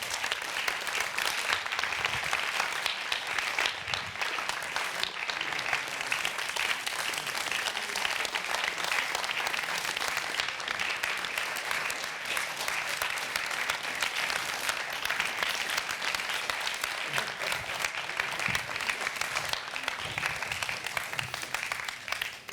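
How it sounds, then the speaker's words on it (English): Sustained applause from an audience welcoming finalists at the Amsterdam Science & Innovation Award 2021 ceremony, dense even clapping continuing steadily throughout without pause. "Then we can welcome them with an applause."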